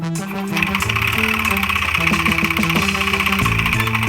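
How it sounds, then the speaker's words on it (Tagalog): A Yamaha NMAX v2 scooter engine runs steadily up close, with a rapid metal-on-metal clatter and knocking from inside the engine riding over its drone. "parang bakal sa bakal na yung nagtutunugan sa makina niya"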